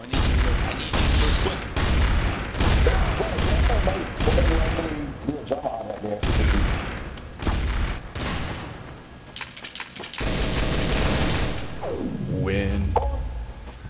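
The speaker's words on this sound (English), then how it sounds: "Start shooting." Rapid volleys of gunfire from the video game Trouble in Terrorist Town, loud, dense bursts and booms running almost the whole time, with people talking over the shooting.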